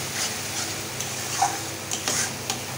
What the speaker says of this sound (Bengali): দইটা দিয়ে আর একটু ভালো করে কষিয়ে নিই